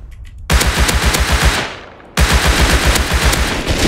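Rapid automatic LR rifle fire in a shooter video game, two dense bursts of loud, close shots with a brief drop-off between them.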